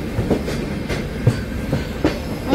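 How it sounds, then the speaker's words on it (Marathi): An express train passes through Ukshi railway station on the Konkan Railway in India, its wheels clicking in steady clickety-clack beats over the joints under a continuous loud rumble, heard close by. "आणि इकडे एक्सप्रेस ट्रेनची क्रॉसिंग लागले"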